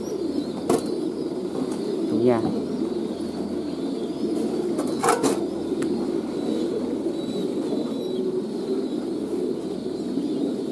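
French pigeons at a pigeon farm coo softly and flap their wings now and then, with a few sharp clicks and knocks over a steady low background; a voice speaks briefly.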